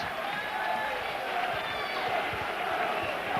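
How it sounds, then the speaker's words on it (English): A rugby league crowd at a 1990–91 Workington Town match keeps up a dense, steady roar of chanting and cheering, broad and continuous with no single voice standing out. "The crowd are going wild down there. They're chanting and cheering."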